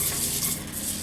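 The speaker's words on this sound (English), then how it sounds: "we're going to toast the rice kernels in that butter." Arborio rice toasting in melted butter in a pan, a short, dense, steady sizzle and hiss with soft stirring, close and fairly loud, no voices.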